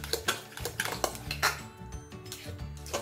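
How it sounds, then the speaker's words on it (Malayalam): A lid lifted off a cooking pot and a utensil stirring the food inside, with repeated metallic clinks and scrapes against the pot in an uneven rhythm, close and moderately loud with no talking. "ഇതിന്റെ അടപ്പ് മാറ്റിയിട്ട് ഇതൊന്നും കൂടി ഒന്ന് ഇളക്കി കൊടുക്കാം."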